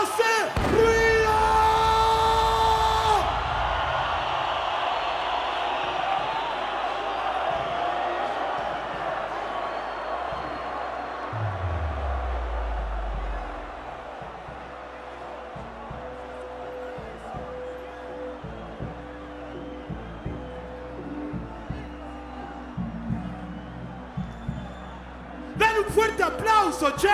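Crowd at a Bogotá rap battle roaring, shouting and cheering loudly, dense and continuous, with a host's voice over it and a sudden rise of cheers near the end.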